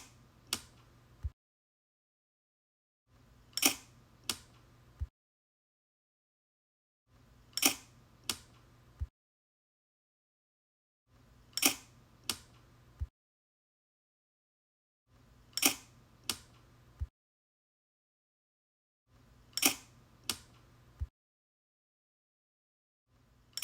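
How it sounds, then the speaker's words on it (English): A Kodak Signet 35 film camera shutter clicks close and crisp in a regular pattern, each burst a pair of sharp mechanical clicks with handling noise, separated by quiet pauses and repeated about six times. "The shutter sound you hear is actually from this camera."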